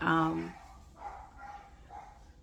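Dogs bark at a distance, several soft muffled woofs spaced across the clip, following a brief voice at the start.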